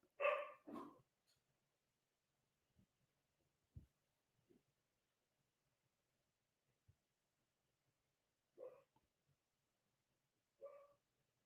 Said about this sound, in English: the dogs is, I don't know who they barking at